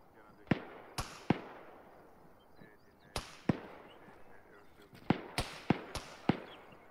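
Sharp gunshots from a shooter to the north during a realism-unit combat patrol in a video game, about ten distinct reports at irregular intervals, some in quick pairs, fairly loud against a quiet outdoor background.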